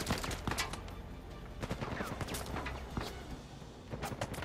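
Enemy gunfire in the video game Uncharted 4: rapid, repeated sharp shots and bursts crackle throughout at moderate distance, with no talking.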